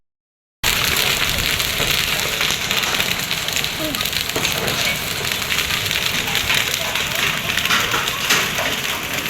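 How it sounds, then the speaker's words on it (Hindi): Heavy hailstorm with hailstones pelting crops and garden beds, a dense, loud, continuous rattling patter that starts abruptly and holds steady. "इतने तेज़ इतने ज़्यादा ओले पड़े हैं"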